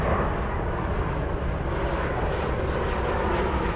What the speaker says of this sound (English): we just had an Atlas Air land on the other side of the airport